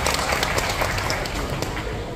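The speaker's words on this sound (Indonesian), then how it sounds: "tepuk tangan berdiri" A crowd gives a standing ovation at a Hindu Dharma Santi Nyepi gathering, with dense, steady clapping filling the whole moment at a constant level.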